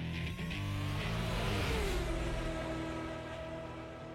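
A 1991 Ferrari Testarossa with a 390-horsepower V12 drives along, its engine droning loud and close as it pulls up through the revs and then settles into a steadier cruising tone.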